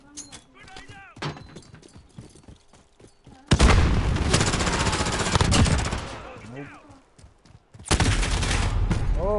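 Gunfire from a video game rattles in dense bursts, with a loud blast near the middle and another heavy burst at the end, separated by quieter stretches where a voice talks over scattered shots.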